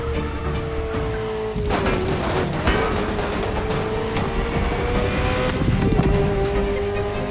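Ferrari sports car in The Crew Motorfest racing game, its engine droning steadily and loudly with a sustained tone that dips slightly as it shifts, mixed with rushing road and wind noise throughout.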